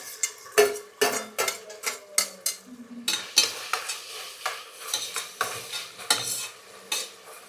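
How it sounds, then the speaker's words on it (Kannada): A spoon scrapes and clinks against a pan as tomatoes are stirred into cooked onions, with repeated sharp metallic taps and a soft sizzle underneath, close and steady. "ಈರುಳ್ಳಿ ಎಲ್ಲ ಚೆನ್ನಾಗಿ ಬೆಂದಿದೆ ನೆಕ್ಸ್ಟ್ ಟೊಮೆಟೊ ಹಾಕೊಂತ ಇದ್ದೀನಿ"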